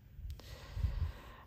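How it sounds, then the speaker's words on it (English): A bulldog snores in the background, low rumbling breaths swelling and fading at close range with no talk over them. "You all disregard my dog in the background snoring, okay?"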